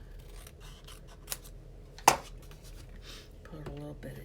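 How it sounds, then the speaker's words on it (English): Scissors make a single sharp snip as paper is cut in half during a paper-craft project, with a faint tap just before and brief low talk afterward. "And I'm going to just kind of cut this in half."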